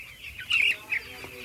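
A hen gives a couple of short, sharp clucks close by in a village poultry house, over a quiet murmur of other birds.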